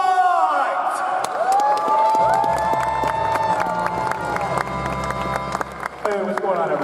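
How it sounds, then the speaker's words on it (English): A comedy show audience at an anime convention cheers and claps as a comedian from Pennsylvania is introduced, a loud sustained roar of crowd noise with whoops and applause, while music-like tones and shouting mix in throughout. "please give a round of applause for Jarvis White!"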